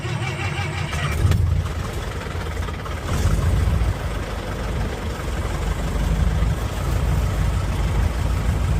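A 1950s Piper TriPacer light aircraft piston engine runs steadily at low idle after starting, a continuous loud low rumble with slight surges throughout, heard alone without talk.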